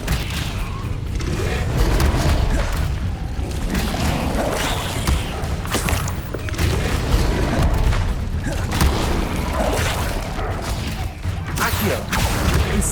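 Fiery spell bursts from the Incendio charm in Hogwarts Legacy, a dense run of booms, thuds and whooshes packed into continuous loud game combat noise.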